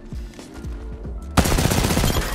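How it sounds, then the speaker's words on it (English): Charge rifle fire in Apex Legends, with a low humming charge-up that has rhythmic pulses, then an abrupt loud, dense burst of fire that fills the rest of the clip. "This guy is heavily invested in his charge rifle."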